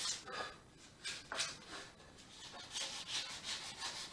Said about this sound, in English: I'm not certain 220 is going to be the right sandpaper for that